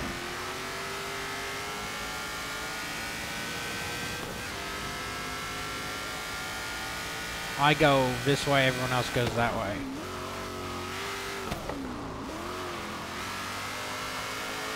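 Engine revving from a car in Forza Horizon 3's Hot Wheels expansion, a steady drone that swells into a short burst of rising and falling revs midway, with someone talking over it throughout.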